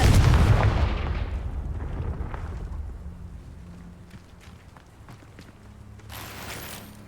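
A Confringo fire-spell blast in Hogwarts Legacy opens with a loud, deep boom that rolls and slowly fades over several seconds, followed by softer scattered crackles and a brief brighter burst near the end.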